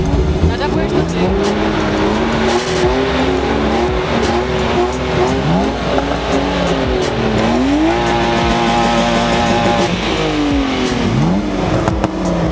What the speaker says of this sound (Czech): tam nebudeš slyšet přes ten motor